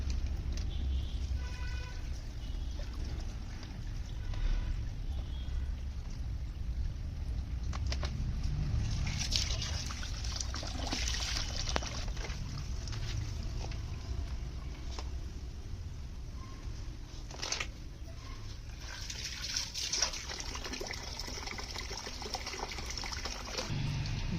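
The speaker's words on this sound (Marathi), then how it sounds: "नागली चांगली धुवून घेतली बघा 3 पाण्याने स्वच्छ" Water sloshes and trickles softly as finger millet grain is swirled and rinsed in a container, with occasional small splashes and a low background hum.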